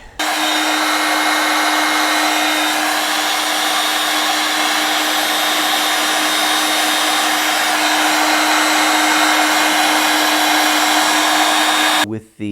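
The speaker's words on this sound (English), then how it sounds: "Ready for heat shrink." A heat gun runs steadily at close range for about twelve seconds, a loud continuous blowing roar with a fixed hum, while heat shrink tubing is shrunk onto a battery cable; it cuts off abruptly at the end.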